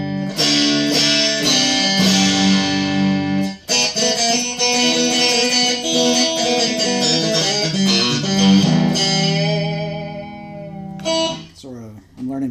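Chicken picking on a G&L Legacy Tribute Stratocaster electric guitar: snappy, percussive plucked notes in quick twangy runs with ringing sustained tones, close and loud, ending in a few sharp plucks.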